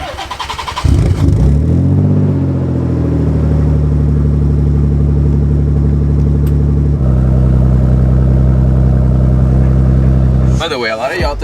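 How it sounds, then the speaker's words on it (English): Twin-turbo Nissan 300ZX with a full HKS Hi-Power exhaust making its first cold start: the starter cranks, the engine catches with a loud flare, then settles into a steady, rumbling high idle, shifting to a slightly lower idle before it stops abruptly. "Either way, first ever cold start."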